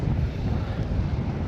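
Steady wind at the seaside near Çanakkale, buffeting the microphone as a loud, continuous low rumble with no breaks and no voices.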